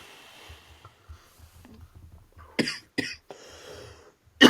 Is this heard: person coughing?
yes